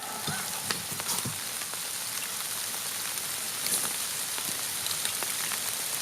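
Steady rain patters down with scattered louder drops tapping nearby surfaces, a constant moderate hiss with no voices.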